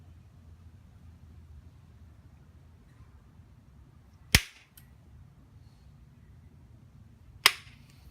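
Two sharp, crisp strikes on a raw Pedernales flint nodule during flintknapping, spaced about three seconds apart, each cracking out clearly over a quiet low background hum.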